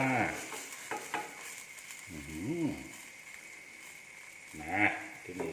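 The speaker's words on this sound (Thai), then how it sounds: "มาม่าต้มยำกุ้งก่อนอื่นกับใส่น้ำซุปกระดูกหมูลงไปก่อนนะครับ นี่ตั้งกระทะร้อนแล้ว" Pork bone broth pours into a hot pan for tom yum shrimp instant noodles, hissing and sizzling in bursts while someone talks over it at intervals.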